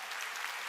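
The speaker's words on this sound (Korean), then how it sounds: "박학렬 회장님에게 박수 한번 보내드릴까요?" A seminar audience applauds, a dense wash of clapping hands filling a brief moment with steady, even loudness and no speech over it.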